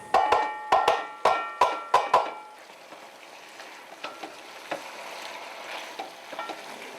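Onions going into a hot pan for boeuf bourguignon: a few sharp knocks and scrapes at the start, then a steady, soft sizzle of frying with occasional faint crackles.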